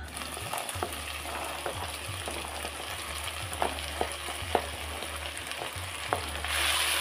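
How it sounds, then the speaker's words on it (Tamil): Onions and mixed vegetables fry in a pan, a steady close sizzle running throughout with scattered crackles and spatters, and the hiss swelling louder near the end. "இந்த டைமில் எடுத்து வச்சுருந்த வெஜிடபிள் எல்லாத்தையும் சேர்க்குதேன்."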